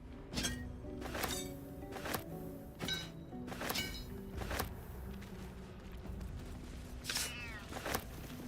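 A cat meows in Baldur's Gate 3, its drawn-out cries mixed with repeated thunks and thuds over a steady background of game sound.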